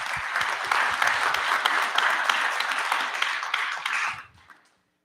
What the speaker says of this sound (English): Let's give you guys a round of applause again.